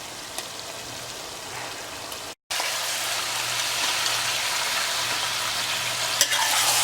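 Mutton pieces sizzle and fry in a pan with onions for a Patiala-style mutton korma. A steady, close hiss of frying runs throughout, with the occasional stir, and a brief drop near the start.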